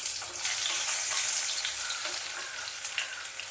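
Cumin seeds and garlic sizzle steadily in hot oil, a close, dense crackle with small pops and a few scattered louder spits, no voices over it.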